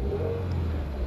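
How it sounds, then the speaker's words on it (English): A stock 2021 Subaru WRX Premium with a 6-speed manual hums with a steady low engine drone and faint whir, heard briefly from inside the car at moderate volume, alone without talk. "let's go ahead and see if we can hear this engine a little bit here"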